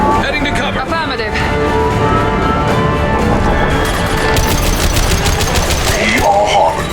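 Gunfire rattles through a Mass Effect 2 Legendary Edition battle, loud rapid bursts over a dense mix of combat noise and electronic effects, with fighters' voices mixed in.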